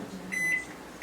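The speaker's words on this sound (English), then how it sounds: "It says to put it in the microwave for 1 minute." A microwave oven runs with a low hum while heating a 16-ounce container of frosting, followed by short beeps, quiet and close by.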